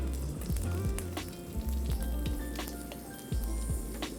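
Beans tossed into a pan of browned butter give a steady sizzle, with soft low knocks and scrapes from the pan coming through at regular intervals.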